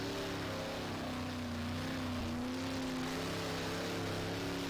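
A Super Stock race car's engine in rFactor, at Hartford, drones and revs continuously, its pitch wavering up and down, steady and moderately loud with no speech.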